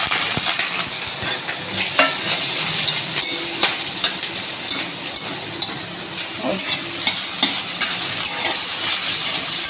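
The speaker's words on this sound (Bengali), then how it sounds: "পেঁয়াজটা ভাজা হয়ে গেছে।" Onion and chopped chili sizzle loudly in hot oil in a wok, with steady frying crackle and repeated scraping stirs throughout.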